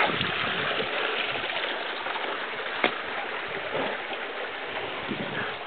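Mountain river waterfall in a narrow canyon, a steady broadband rushing roar of falling water, constant and fairly close, with no talk.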